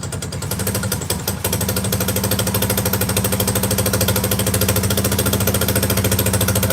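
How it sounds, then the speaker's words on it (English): A Honda Foreman ATV engine runs revved on full choke, a loud steady rapid chugging drone after a brief rough start, close and continuous with no talking. "When it was cold before, I'd have to have it like full choke, revved up, like this."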